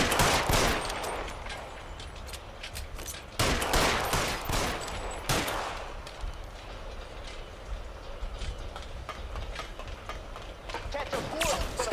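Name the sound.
gunfire in L.A. Noire Remastered video game shootout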